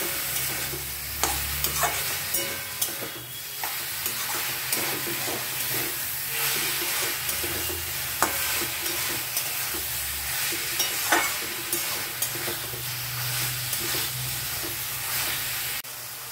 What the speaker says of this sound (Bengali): ভাজা সবজিটার সঙ্গে ভালোভাবে একটু মিশিয়ে নিতে হবে।